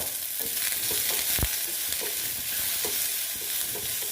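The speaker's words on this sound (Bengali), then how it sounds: "দেখো, একটু ভেজে নিচ্ছি। একটু হলুদ দিয়ে দিলাম।" Fish fat with turmeric fries in a pan with a steady, close crackling sizzle, broken by a few sharp spoon knocks and stirring scrapes.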